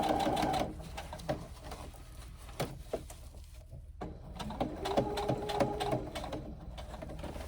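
A sewing machine stitches a fabric pouch along the zipper in close, rapid bursts, stopping briefly before whirring on again, with no voices.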